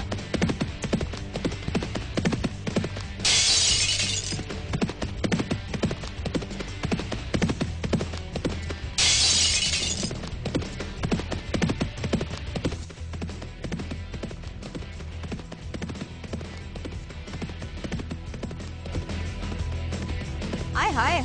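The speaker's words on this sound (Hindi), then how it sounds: "सड़क पे गधों की तरह भागते घोड़े क्या गुल खिलाएंगे" Horses running along a road, hooves clip-clopping steadily throughout at a moderate distance, with two short bursts of bright noise and a constant low hum underneath.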